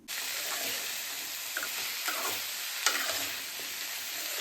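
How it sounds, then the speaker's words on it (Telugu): Tomato pieces sizzle and fry in a pan for a village-style bottle gourd curry, a steady close hiss with occasional light clicks of stirring throughout. "దానిలో టమాటా ముక్కలు మంచిగా వేగాయి"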